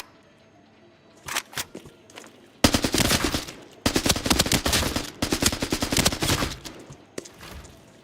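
Loud automatic gunfire in a shooter video game comes in several rapid, close bursts separated by short pauses, with a few lighter clicks and taps between volleys.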